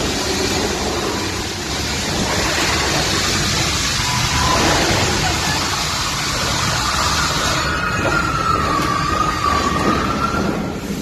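A steady, loud rumbling roar of a train rolling in, with a faint rising whine partway through and no voices.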